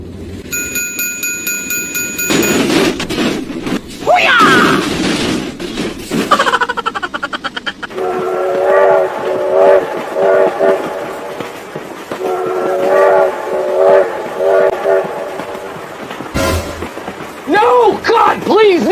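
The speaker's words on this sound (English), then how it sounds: "Oh my God, train!" A train rumbles close past a road crossing, its horn blaring in long tones, with a crossing bell ringing and frantic shouting throughout.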